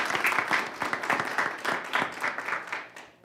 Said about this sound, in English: let's give those two gentlemen right back there a big round of applause